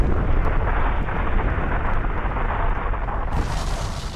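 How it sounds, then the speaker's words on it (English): Dramatized explosive collision of the Mars-sized planet Theia with the early Earth, a loud continuous deep roar and rumble like a massive eruption that holds steady throughout. "Theia was destroyed in the collision."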